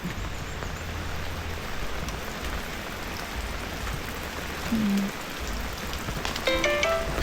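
Rain falls outdoors during mango tree planting, a steady, even hiss of drops on surfaces throughout, with a few faint birdlike chirps near the end.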